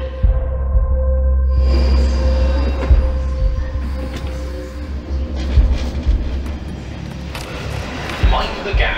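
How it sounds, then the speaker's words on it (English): A London Underground train rumbles loudly at a station, a deep low drone with a steady tone, then clatter and squeals as it moves, heard up close without speech. "Mind the gap between the train and the platform."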